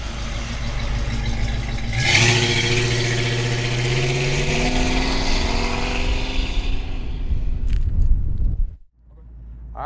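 A 1966 Ford Mustang Coupe engine running, idling then rising in pitch as it revs and accelerates, loud and close, before cutting off abruptly near the end.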